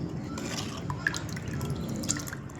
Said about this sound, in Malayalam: ഇനി ഇത് നമുക്ക് നന്നായിട്ട് മിക്സ് ചെയ്ത് കൊടുക്കാം.